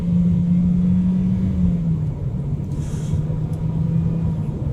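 A 2025 MG5 sedan accelerating on the road, heard as a steady low engine drone with a held tone that dips slightly partway through, joined by continuous road rumble, close and fairly loud throughout.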